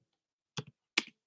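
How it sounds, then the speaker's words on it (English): A computer keyboard is typed on with a faint tap and then two distinct, crisp keystroke clusters, close up and spaced apart, with no talk. "typing that in"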